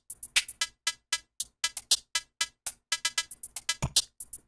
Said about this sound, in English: which is just a little hi-hat that I sequenced.